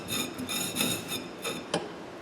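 A router cutter is brought against the grinding wheel of a Thorvie AV-40 sharpening machine for a scratch test, producing several short, bright rasping touches in quick succession, close and fairly quiet.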